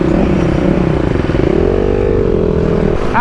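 Enduro motorcycle engine revving close by, a loud rough rising drone with clattering mechanical texture and a sharp scrape at the end.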